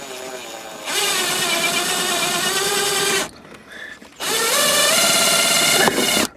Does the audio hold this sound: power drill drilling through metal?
yes